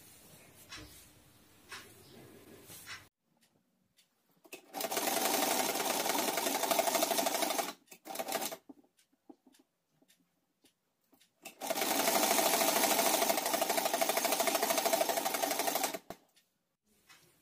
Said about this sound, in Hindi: अब मैं इसको इसके ऊपर ऐसे सिल दूंगी चारों तरफ से।